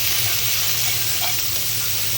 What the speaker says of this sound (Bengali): কড়াইতে দিয়ে দিচ্ছি তেল পেঁয়াজ কুচিয়ে